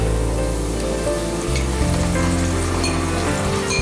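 Whole spices and ground masala paste frying in a pan for egg masala rice, a steady loud sizzle and crackle running throughout with occasional stirring, no voices.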